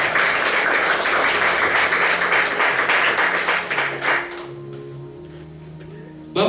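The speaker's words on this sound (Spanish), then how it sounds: "denle un aplauso al Señor" Congregation applause in a church service, loud dense clapping for about four seconds that cuts off abruptly, leaving a quieter background with faint tonal sounds.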